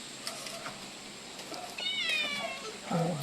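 Several cats meow at a rural farm in Dolores, Quezon province, a series of rising calls in the middle of the clip over faint background noise and brief speech.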